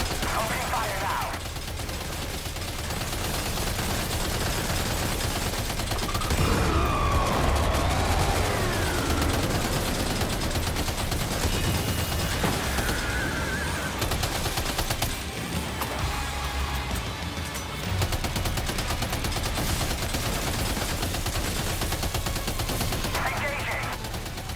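Gunfire in the video game Death Stranding 2, dense bursts of rapid shots sustained over a loud mix with music and effects, with voices speaking at times.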